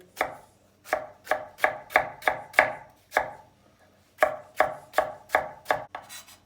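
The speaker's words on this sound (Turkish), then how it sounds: "orta boy domates doğruyoruz" Steady, rhythmic knife chopping of a medium tomato on a board, a quick run of strokes, a short pause, then another run; close up with no talking.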